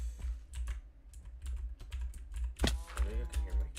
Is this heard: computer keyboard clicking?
yes